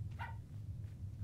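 A single short bark from a dog in the horror video game Pacify sounds faintly over a low, steady hum.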